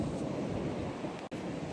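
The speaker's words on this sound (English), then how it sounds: "Sorry it's so windy." Low, steady rumble of wind buffeting the microphone outdoors at a campground in Shenandoah National Park, with a brief dropout near the end.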